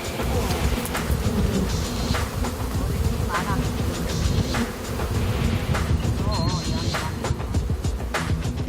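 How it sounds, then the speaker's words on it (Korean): A swarm of honeybees being swept off by bare hand fills the air with a loud, continuous buzzing hum, close and unbroken, with scattered rustles and faint background noise. "맨손으로 벌들을 쓸어내리는"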